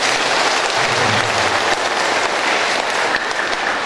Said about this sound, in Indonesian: Kita berikan aplaus buat juga.